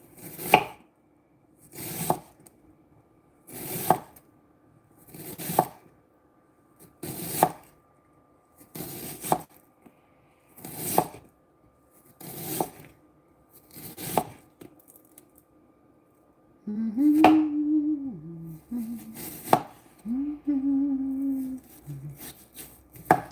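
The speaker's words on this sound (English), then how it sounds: "that is your meat cutting board. Yes, it is. And I'm doing onions on it." Onions chopped with a knife on a wooden meat cutting board, a slow even series of about ten sharp near thuds, then a few scraping rubs along the board.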